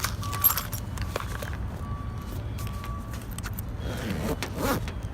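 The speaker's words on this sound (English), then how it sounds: "And then my keys." Keys jangling while packing a travel bag, light metallic clinks and rustles scattered through the clip at close range, with a few thin tonal beeps in the background.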